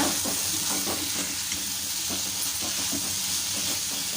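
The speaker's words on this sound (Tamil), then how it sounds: "இப்போ இதை எல்லாத்தையும் சேர்த்துட்டு நல்லா கலந்து விட்டுக்கோங்க" Carrots and potatoes sizzle loudly in a pan as a spoon stirs them, scraping in a rough repeating rhythm over the steady hiss of frying.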